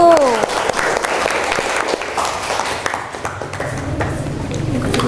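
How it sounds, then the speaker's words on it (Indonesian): A class applauds a group's presentation in a classroom, dense clapping across the whole stretch, with a brief tone near the start and some background voices underneath. "kita beri tepuk tangan untuk kelompok 1"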